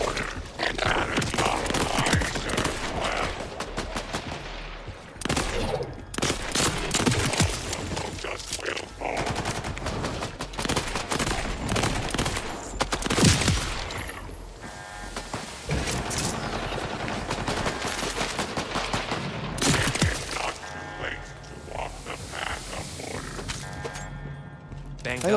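Gunfire in the Borderlands 4 video game, with dense, loud bursts of automatic fire and repeated shots running nearly nonstop, mixed with game music and effects and with voices talking over it.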